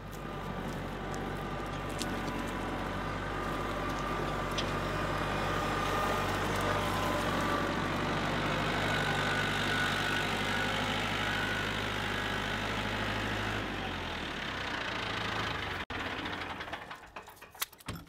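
Tractor engine running steadily while spreading sawdust, a loud continuous low rumble with a droning mechanical whine that holds for most of the stretch before cutting down near the end, with a few faint clanks.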